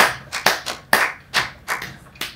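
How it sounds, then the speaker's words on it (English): Single pair of hands giving a slow clap, with about seven crisp, evenly spaced claps ringing out close and loud with almost no other sound. "Slow clap."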